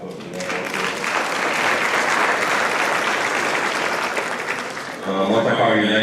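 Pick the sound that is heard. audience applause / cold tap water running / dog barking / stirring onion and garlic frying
audience applause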